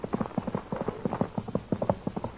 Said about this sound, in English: Quiet, here comes the horse.